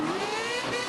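A blown wagon revs hard during a Summernats burnout competition round in Western Australia, its engine a loud, continuous roar that stays at high pitch throughout the short burst.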